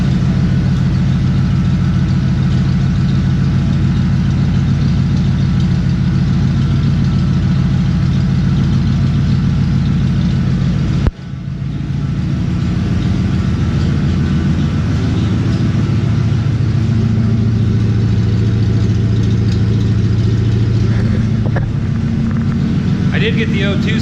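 A 1994 Ford F150 with a homemade true dual exhaust idles steadily with a deep, loud low rumble, which briefly dips partway through before settling back into the same even idle.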